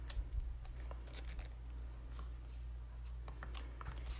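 Scissors cut through paper cardstock for a handmade card, giving quiet, close, repeated snips over a low steady hum.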